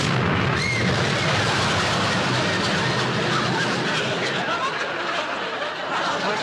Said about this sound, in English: Tommy, I thought you said you defused that bomb